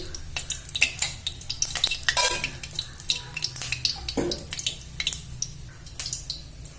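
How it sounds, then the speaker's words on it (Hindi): Oil heats in a kadhai for frying masala for Mithila-style stuffed bitter gourd, giving a steady close sizzle with metallic clinks and scraping from stirring throughout, and no talking. "कढ़ाई में हम 100 ग्राम तेल डाले छिए, जे हमार मसाला फ्राई होते।"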